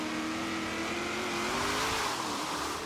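A Holden Torana A9X roaring steadily under acceleration in Forza Horizon 3, its engine note holding high and climbing slightly through the gear, loud and continuous with no talking.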